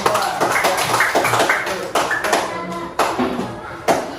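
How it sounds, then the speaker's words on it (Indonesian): Scattered classroom clapping from a group of students, uneven bursts of hand claps with a few louder sharp claps, mixed with faint background voices. "Tepuk tangan untuk kelompok 4"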